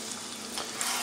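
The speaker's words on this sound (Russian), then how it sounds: "Переключаю на маленький огонь и пускай тут жарится" A steady, close sizzle of porcini and orange birch bolete mushrooms frying in a hot pan over low heat, with no talking.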